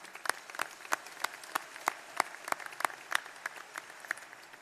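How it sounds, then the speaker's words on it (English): An audience applauds at a graduate commencement ceremony, a light, moderately distant patter of clapping with scattered sharper claps, steady across the whole stretch. "how about another round of applause for our student singers?"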